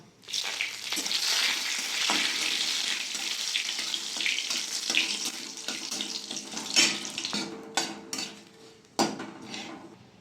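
Dried red chilies, black mustard seeds and curry leaves hit hot mustard oil with a sudden hissing sputter that fades into a softer crackle, followed by several clinks and knocks of a utensil against the pan.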